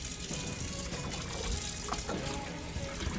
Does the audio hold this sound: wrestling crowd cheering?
no